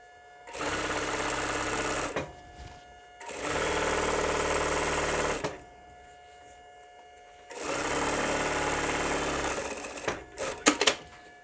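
Sewing machine stitching a console zipper cushion cover, running in three loud, steady bursts of about two seconds each, separated by short pauses, with a few quick clicks at the end.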